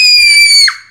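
A child lets out a single loud, high-pitched scream that holds steady for well over half a second, then breaks off abruptly and fades, leaving near silence.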